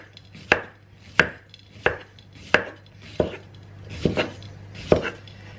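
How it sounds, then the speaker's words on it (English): A knife chops cucumber slices on a board in eight crisp, evenly spaced strikes, loud and close, with a low steady hum underneath and no talk. "Just going to chop up some cucumber slices."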